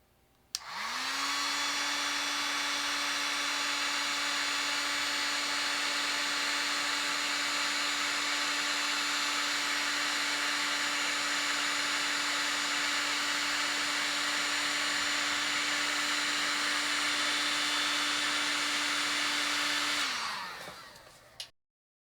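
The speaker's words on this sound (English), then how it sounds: "Now I'm using this Mastercraft from Canadian Tire, the heat gun to blow the heat." Mastercraft heat gun blowing hot air at a thermocouple sensor, a loud, steady whirring roar that starts abruptly, holds an even pitch for about twenty seconds alone, then winds down.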